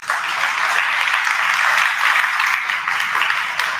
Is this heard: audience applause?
yes